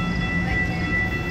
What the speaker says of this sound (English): Right here. Our Metro's coming.